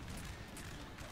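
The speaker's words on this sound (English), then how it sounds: "Our canister and the gunfire from the lines are breaking up." Musket volleys from infantry battle lines in Napoleon: Total War, a dense continuous crackle of massed gunfire with low rumbling booms, loud and unbroken throughout.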